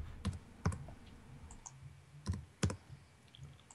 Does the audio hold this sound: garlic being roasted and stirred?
no